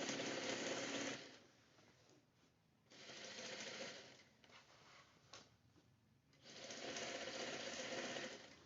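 A sewing machine runs in three steady, fairly faint bursts while stitching pants that are being tapered, with short pauses between the runs and no speech.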